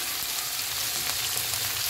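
Dilis anchovies sauté in a pan for ginisang gulay, giving a dense, even hiss of frying that holds at a constant level for the whole stretch, with no speech over it.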